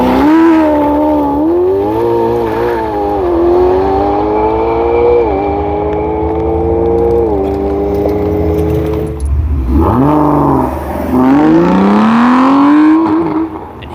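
Cars at a supercar show launch off the line in a drag race, engines revving loud and near with rising and falling pitch, a brief dip then another hard acceleration.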